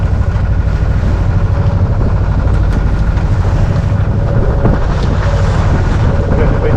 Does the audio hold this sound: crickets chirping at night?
no